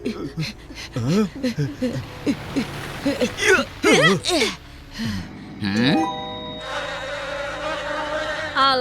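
A swarm of wasps hums and whines near the listener while several voices talk and cry out over it, with a brighter, sustained buzz in the final seconds.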